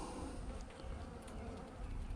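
Dense, steady buzzing of many honeybees swarming around open hive frames while two colonies are being combined, filling the clip continuously at close range with no talk.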